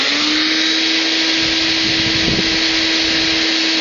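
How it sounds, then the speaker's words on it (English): A household vacuum cleaner serves as the air blower for a homemade brake drum forge, its motor droning loudly and steadily throughout, with a constant whine held over a rushing airflow. "And I'm going to use a vacuum."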